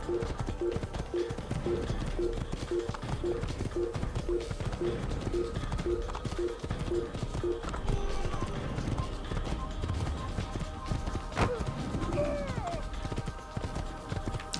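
A horse's hooves clip-clop at a steady trot in Assassin's Creed, a regular rhythmic series of hoof beats for several seconds that then fades under a busy ambient soundscape with other game noise.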